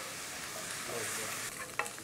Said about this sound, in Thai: เราผัดเบคอนของเรานะครับให้ได้ความสุกตามที่เราต้องการนะครับ